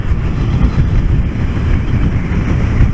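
Strong wind roars steadily against the microphone, a continuous low rumbling buffet with no pauses.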